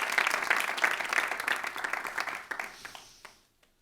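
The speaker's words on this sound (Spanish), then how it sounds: "dale un aplauso al Señor" A church congregation claps for the Lord during a sermon: a dense burst of applause that gradually thins out and fades to scattered claps over a few seconds.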